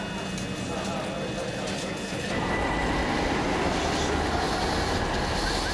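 Tram running through Istanbul streets, a steady rumbling rail drone with wheel noise that grows louder midway, under a narrating voice.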